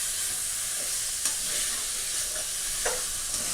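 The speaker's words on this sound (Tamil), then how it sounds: "டொமேட்டோ சேர்த்ததுக்கப்புறமா டொமேட்டோ நல்லா சாஃப்ட் ஆகிற வரைக்கும் ஃப்ரை பண்ணி எடுத்துக்கணும்" Tomatoes frying with ginger garlic paste in a pan for chicken biryani masala, a steady close sizzle with a few soft stirring scrapes and brief spoon taps.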